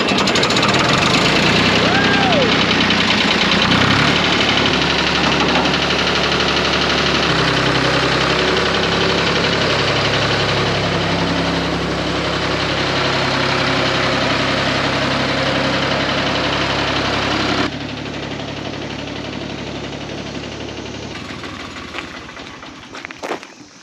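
A tractor engine idles steadily with a deep, rumbling low throb that runs the whole time, easing slightly quieter toward the end.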